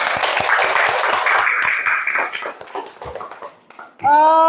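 A classroom full of children claps in a dense burst that fades out over a few seconds, then a voice begins speaking near the end.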